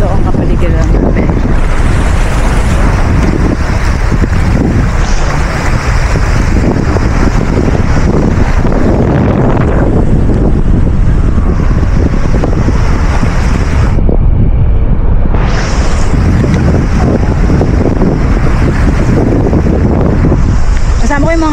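Sea and wind on a beach near Chania, Crete, in summer: a steady, loud roar of surf and gusting wind buffeting the microphone throughout, with a brief lull in the middle.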